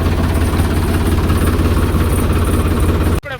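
A farm tractor engine idles steadily and loudly at close range, a low rhythmic diesel chug that holds even for about three seconds before cutting out abruptly into a brief rustle.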